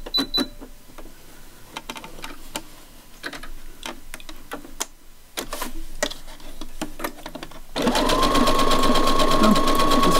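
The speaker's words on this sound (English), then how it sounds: "I'm going to do a stretch zigzag on it" A sewing machine stitches a stretch zigzag on folded fabric: intermittent close bursts of rapid mechanical clatter, then a steady, louder continuous run of stitching at the end.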